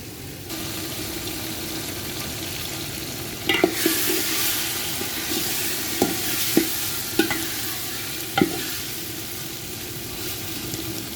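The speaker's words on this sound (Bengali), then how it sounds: "মাংসটা নেড়ে দিচ্ছি। যাতে মশলাটা মাংসের গায়ে ঠিক মতো লেগে যায়।" Chicken pieces coated in spices stirred in a hot pan for biryani, a steady oily sizzle under scraping spoon strokes with several sharp knocks against the pan.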